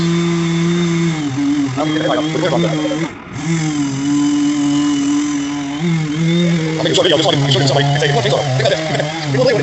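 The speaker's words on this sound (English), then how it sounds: "is he chainsaw milling that damn thing?" A chainsaw mills a long log, its engine droning steadily with a brief dip near the middle before revving back up, close and loud, while someone talks over it.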